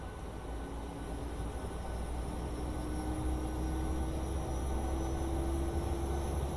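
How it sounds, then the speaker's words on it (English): An aircraft auxiliary power unit spooling up, a steady broadband roar with a thin whine slowly rising in pitch, constant and fairly distant-sounding inside the cabin, with no talk. "APU will be spooling up."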